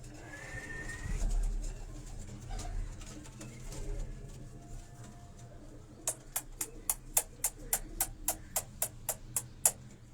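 Pigeons coo softly on a rooftop in Karachi, low and somewhat distant, until a quick run of about a dozen sharp, evenly spaced clicks takes over near the end.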